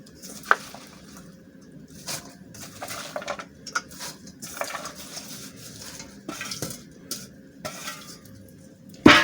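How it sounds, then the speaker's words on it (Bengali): Tender young stalks being stirred with spice paste in a pan for a Bangladeshi fish curry: soft irregular scraping and clinks of a spoon against metal, with a sharper knock at the start and end. "খুব সুন্দরভাবে নেড়ে ছেড়ে মশলা কষার সঙ্গে কচি ডাটা মিক্সড করে নিচ্ছি"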